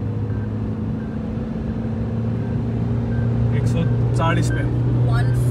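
A steady engine drone and road roar come from a Toyota Fortuner and an MG Gloster accelerating hard in a drag race, heard from inside a car, with someone talking briefly over it near the end.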